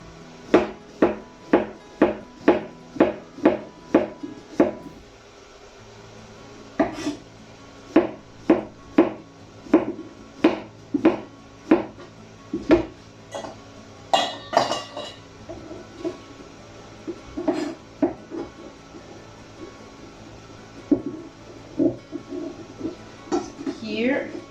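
A knife slices courgette thinly on a chopping board in a cooking class, a quick run of sharp, evenly spaced taps, pausing briefly, then resuming in steady bursts, close and clear.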